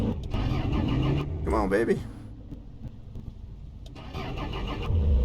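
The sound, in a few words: car engine trying to start in Mon Bazou video game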